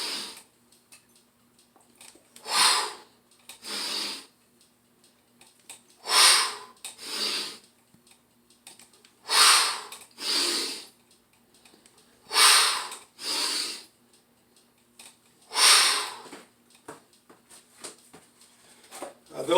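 Deep, forceful breaths come close to the microphone during decline push-ups with the feet raised on a bench, as repeated loud inhale and exhale bursts in a steady rhythm with quiet pauses between them.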